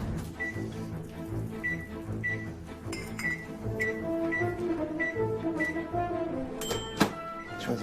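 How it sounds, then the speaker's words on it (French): A microwave oven runs in a busy restaurant kitchen, a low steady hum under repeated short clicks and clatter, with a sharp clunk near the end. "Je vais faire du micro-ondes"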